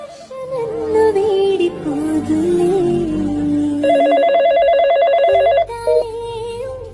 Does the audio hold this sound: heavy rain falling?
no